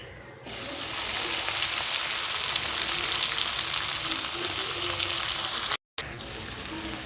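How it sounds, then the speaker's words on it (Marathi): Stuffed okra (bhindi) frying in hot oil gives a loud, steady sizzle close by with a constant crackle, briefly cut off near the end before resuming. "भरलेली भेंडी टाकायची आहे।"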